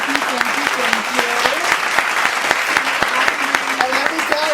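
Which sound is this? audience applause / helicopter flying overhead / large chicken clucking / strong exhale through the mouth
audience applause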